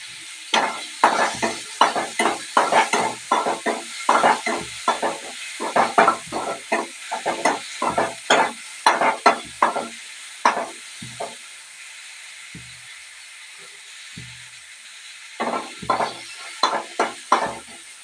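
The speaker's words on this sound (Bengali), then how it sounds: "এই দেখুন, টমেটোটা ভাজা হয়েছে।" Chopped tomatoes and onion fry in oil under a soft steady sizzle while a spatula stirs them in quick rhythmic scrapes, with a short lull before the stirring starts again.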